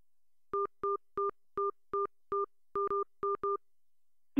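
Telephone keypad DTMF tones dialing a phone number on a cell phone: ten short, clear, evenly spaced beeps in a steady rhythm, close and alone with no talking.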